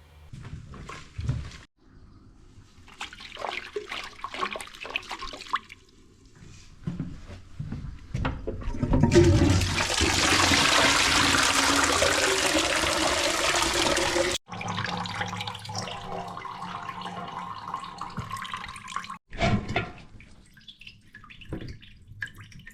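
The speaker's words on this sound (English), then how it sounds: "we'll pour some water in there" Water poured into a blocked urinal trap and its pipework rushes in a loud, broad gush lasting several seconds, framed by clattering, dripping and handling noises before and after.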